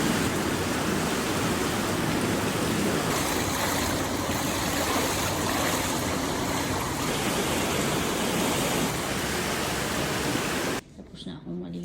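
Steady heavy rain at night outside a resort hotel in Chardonne, Switzerland, a dense continuous hiss that stays loud and even before cutting off abruptly near the end.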